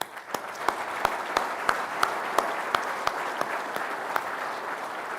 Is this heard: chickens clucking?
no